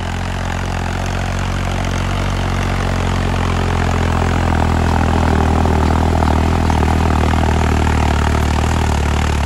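A Deutz-Fahr 70 hp tractor working a field in second high gear, pulling a cultivator with discs behind, delivers a loud, steady diesel drone with a deep low rumble and no pauses.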